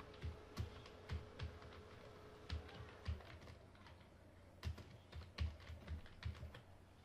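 Quiet typing on a computer keyboard, irregular bursts of light key clicks with short pauses, heard close and alone.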